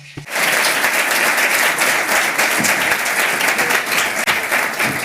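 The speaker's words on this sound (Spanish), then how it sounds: "Por último, increíble panel. Muchísimas gracias. Un aplauso." After a brief pause, a conference audience at an investment forum bursts into full applause for a panel, a loud, steady crowd clapping that holds evenly for several seconds.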